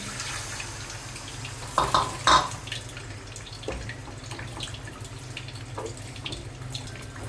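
Water poured into a pot while cooking mutton curry, a brief splashing gush followed by a few small trickles and drips over a low kitchen background hum.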